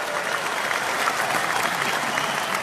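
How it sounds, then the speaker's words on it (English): Audience applause for a ringmaster's guest at a live show, a steady, dense wash of many hands clapping at once that holds evenly throughout without a break. "We'll give the super applause."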